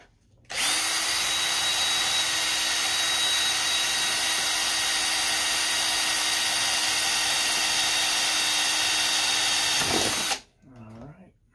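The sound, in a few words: power drill drilling holes in ammo box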